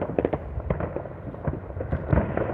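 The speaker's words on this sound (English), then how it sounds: "Such a great spot to come watch fireworks." Fireworks pop and crackle continuously at a viewing spot, a dense run of overlapping bangs and bursts, some near and sharp, others duller and farther off, with no voices.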